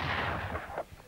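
A single shot from a historical cannon or flintlock gun at a castle battle re-enactment, a sharp loud blast that fades quickly into a short rumble.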